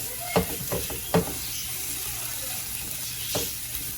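Potatoes and onions fry in a pan with a steady broad sizzle, punctuated by a few sharp clinks and scrapes of stirring, close and continuous with no talking.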